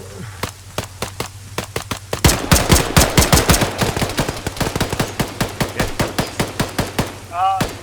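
Gunfire in the military shooter ArmA 3: sparse single shots at first, then dense rapid automatic bursts that go on for several seconds, loud and close, with a voice speaking briefly near the end.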